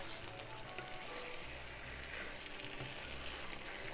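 Leek and tofu stir-frying in a pan for spicy pork mapo tofu, a soft, continuous sizzle with light crackles, quiet and close.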